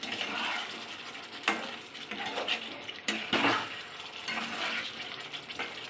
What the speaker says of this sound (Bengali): এটা দিয়ে ভালো করে আমি আবার মিশিয়ে নেব।